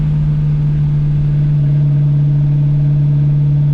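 A 1978 Pontiac Trans Am engine runs at a steady cruise around 2200 RPM, a loud, even low drone with a strong constant hum and no breaks.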